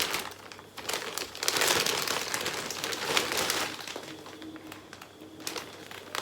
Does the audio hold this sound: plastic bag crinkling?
yes